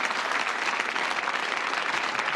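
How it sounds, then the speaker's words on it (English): A game-show studio audience bursts into dense, loud applause after a contestant sings, unbroken clapping filling the room. "Give him a round of applause for that."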